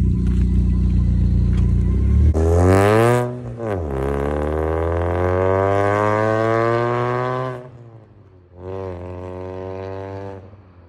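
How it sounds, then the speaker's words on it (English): A car engine with a near straight-pipe exhaust revs hard and loud, climbing in pitch several times with a raspy exhaust, drops off briefly, then roars up again close by. "it's pretty loud. It sounds almost like a straight pipe"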